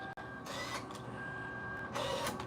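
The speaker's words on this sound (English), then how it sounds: "And you hear the printer's going." A printer runs steadily with a continuous mechanical whir and hum, brief surges of feed noise rising at intervals, close by with no talking.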